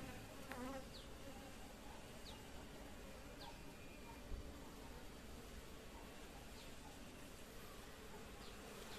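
Honeybees swarm around a hive that was just moved to a cool new site, making a steady faint buzz with a few individual bees flying close past, and no talk.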